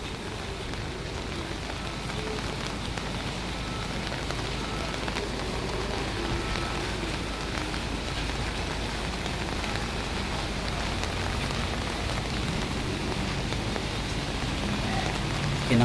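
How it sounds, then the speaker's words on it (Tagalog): Steady rain pours down on a Manila building site during a storm, a dense continuous hiss of drops striking surfaces that holds at an even, moderate level throughout with no voices. "Grabe, umulan, bumagyo, tuloy lang ang trabaho sa Maynila"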